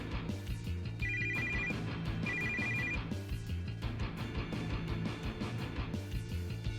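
A cell phone rings late at night in two short repeated bursts of a bright electronic tone, standing out over a busy, continuous musical background with no voices.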